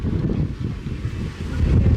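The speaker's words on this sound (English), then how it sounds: "it is quite windy though." Wind gusts across the beach at Castaway Cay, a loud, rumbling buffet on the microphone that swells and dips, with surf hinted beneath and no talking.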